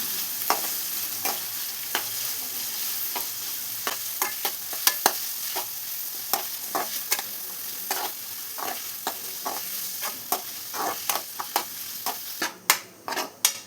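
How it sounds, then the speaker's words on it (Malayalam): Shallots and slit green chillies sautéing in a pan: a steady sizzle is broken by repeated scraping stirs, close and clear, ending in a few louder knocks, with no talking. "പിന്നെ 2 പച്ചമുളക് നടുകീറി വെച്ചതും കൂടെ ഇട്ട് കൊടുക്കാം. ഇതൊന്ന് നന്നായി വഴറ്റിയെടുക്കണം."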